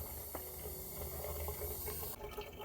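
Water flowing steadily from a drained pool pipe as it is cut open during a saltwater generator plumbing install, a continuous hissing rush with a brief sharp change near the end.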